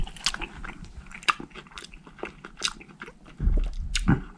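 Someone eating outdoors at a prairie state park: crisp bites and crunchy chewing come in quick irregular snaps up close, followed by a duller, louder rumble near the end, with no talking.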